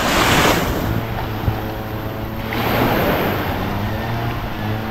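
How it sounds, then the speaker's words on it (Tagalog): Heavy ocean surf whipped up by the southwest monsoon surges and crashes in broad washes, with strong wind buffeting the microphone and a low engine drone underneath. "Hinabutan ng habagat, malaking alon."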